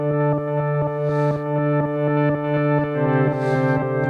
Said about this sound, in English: it's that kind of classic sound that you get in a lot of dance music where things are kind of pumping in and out